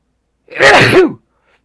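A single loud, close sneeze bursts out in the God of War Ragnarok game, a sharp one-second blast standing alone against silence.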